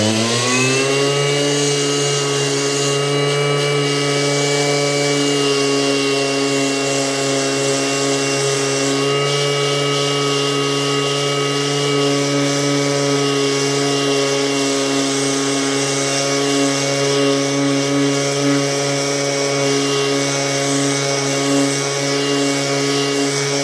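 An Einhell TP RS 18/32 cordless random orbital sander spins up and then runs at a steady, loud, close whine while sanding a surface, humming evenly throughout with no talking.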